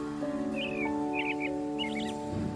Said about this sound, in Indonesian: Pagi-pagi memang senang banget dengar kicauan burung.